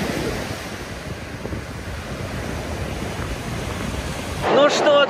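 Waves washing on the Caspian Sea shore, a continuous rushing surf roar mixed with heavy wind buffeting on the microphone, with a voice briefly starting to speak at the very end.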